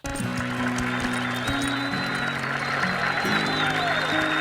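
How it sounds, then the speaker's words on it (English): Thunderous crowd applause from a cartoon horse-show audience, a steady, loud wall of clapping with a musical score running beneath it throughout. "To thunderous applause."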